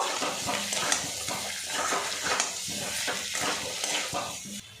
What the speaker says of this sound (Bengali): আবারও ভালো করে মিক্স করে নেব